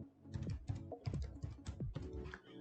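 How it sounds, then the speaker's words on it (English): Keys clatter on a computer keyboard as a teacher ID and password are typed at a login screen, with a quick, irregular run of close taps and clicks and no speech. "I'm typing my teacher ID"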